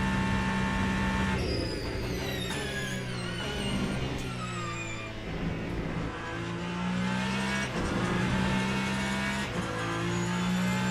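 Porsche race car engine in Le Mans Ultimate screaming along a straight, loud sustained revving with rising pitch sweeps as gears shift, steady and close throughout.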